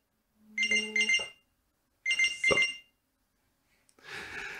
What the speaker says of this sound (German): jetzt müsst ihr einfach nur dem Geräusch nachgehen und können so ganz leicht unsere Uhr finden